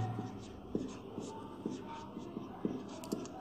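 Pen scratches across paper in short strokes as notes are written by hand, close and fairly quiet, with small rhythmic taps and faint background noise.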